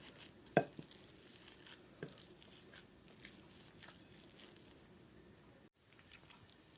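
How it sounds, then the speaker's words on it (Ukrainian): Soft, close kitchen sounds of salo (cured pork fat) being mixed by hand with spices and garlic: scattered faint wet squelches and taps, one sharper knock near the start, no talking. "спеції наші та чесничок додаємо до нашого сала і ретельно перемішуємо все"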